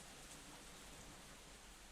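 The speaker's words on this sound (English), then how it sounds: "It's rain pattering down on the roof." Soft, steady rain patters on a roof, a faint broadband hiss that runs evenly throughout with no voices or other sounds over it.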